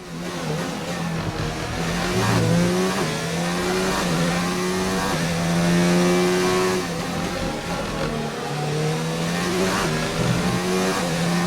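F1 car engine on a fast lap in the F1 2019 video game, a loud, steady high-revving whine that rises and falls through gear changes and corners, continuous for over ten seconds with no voice over it.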